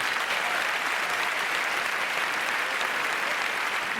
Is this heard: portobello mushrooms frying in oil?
no